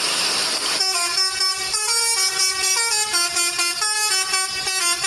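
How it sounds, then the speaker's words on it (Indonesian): A toy Telolet bus horn plays a loud, continuous melodic honking tune, repeating musical notes close up with no talk. "ternyata ada bus telolet"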